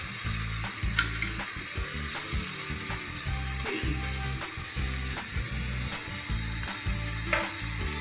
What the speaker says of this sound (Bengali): খুব ভালো করে নেড়ে ভেজে নিব।